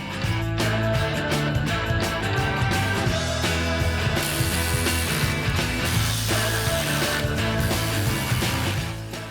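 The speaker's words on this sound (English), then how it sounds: "tighten it down with the factory nuts" A hand ratchet clicks in quick bursts while tightening factory nuts on a disc brake bracket of a 1965–1966 V8 Mustang, with steady close ticking strokes and short pauses, no talking.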